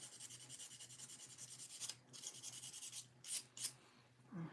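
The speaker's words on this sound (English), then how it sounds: "she needs a little bit of sanding at the top of the joint" Soft, rhythmic rubbing strokes of sanding the top of a Bild Lilli doll's joint, repeated steadily and close, then a few sharper scratchy passes near the end.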